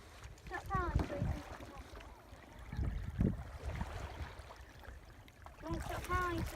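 A canoe paddled on Byers Lake, with intermittent splashes and strokes of water against the hull, up close, while several people talk and call out.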